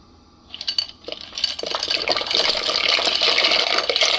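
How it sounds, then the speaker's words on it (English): A pot of boiling water for mac and cheese in a home kitchen splashes and bubbles, starting with a few sharp drips and then building to a steady, close, loud churning gush. "that's splashing everywhere"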